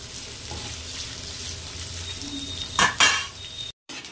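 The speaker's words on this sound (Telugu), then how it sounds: "2 స్పూన్స్ ఆయిల్ వేసి హై ఫ్లేమ్ మీద ఇలా అల్లం ముక్కలు అనేవి వేయించుకోవాలి" Ginger pieces frying in about two spoons of oil over a high flame, giving a steady close sizzle with a couple of louder scraping stirs near the end, then a brief cut to silence.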